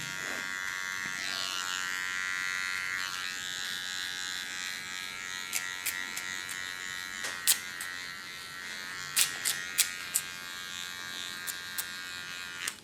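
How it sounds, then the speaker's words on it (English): A small electric hair clipper buzzes steadily while cleaning the contour of a short haircut, a close continuous hum with a few sharp clicks and taps toward the end. "With a small clipper I just clean the contour."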